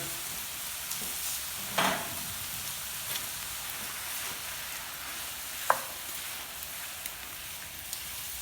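Canned diced tomatoes with green chili are stirred into a hot pan of spaghetti on an outdoor grill, giving a steady soft sizzle with a scrape of the spoon and one sharp clink, no talking.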